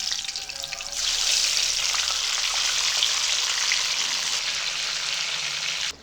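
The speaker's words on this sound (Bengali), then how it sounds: "গ্যাসের ফ্লেম লোতে রেখে আলুগুলো ভেজে নিতে হবে" Potatoes deep-frying in oil over a low gas flame for an egg and potato dum biryani, giving a steady, dense sizzle that starts after a second and holds evenly, fairly close, with no talking.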